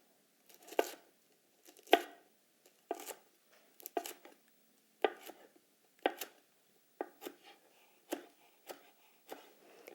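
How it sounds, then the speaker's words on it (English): A knife slices kale into thin chiffonade strips on a cutting board, about a dozen crisp, separate cuts in a loose, steady rhythm, close and clear with short pauses between strokes. "pushing down and forward with the middle portion of the blade, cutting strips as thin as I can"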